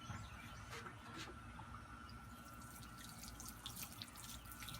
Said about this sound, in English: Now you want to water it and drench it real well.